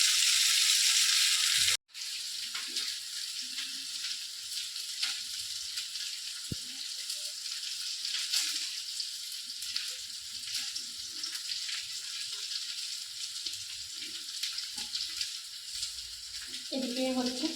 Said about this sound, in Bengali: এদিকে হচ্ছে ভাজা